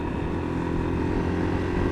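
A Yamaha YBR 125 Custom motorcycle being ridden, its small single-cylinder engine giving a steady, fairly loud drone mixed with wind rush, no speech.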